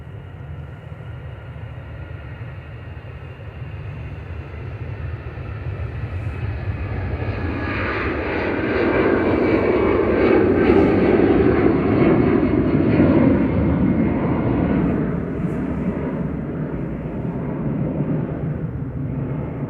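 An Aer Lingus Airbus A320-200 jet taxis at Manchester Airport with a loud, steady engine roar that swells to a peak midway and then eases slightly, heard close and alone.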